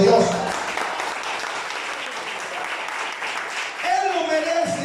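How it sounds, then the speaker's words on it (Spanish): A church congregation claps for God, a steady wash of applause that rises at the start and again near the end, with a voice speaking over it at both edges. "Yo no sé si usted puede dar un aplauso a Dios"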